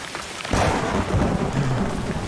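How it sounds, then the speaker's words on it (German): Thunder rolls in and rain pours in Assassin's Creed Odyssey, as a sudden deep rumble breaks in after a quieter start and continues under a dense hiss of steady rainfall, loud and close, with no talking. "Blitz und donnert."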